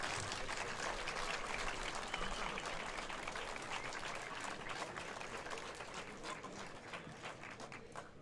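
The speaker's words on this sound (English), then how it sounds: "Team, give a loud applause." Applause from a student racing team and their partners fills a livestreamed roll-out event, a dense, steady wash of many hands clapping that tapers only slightly toward the end.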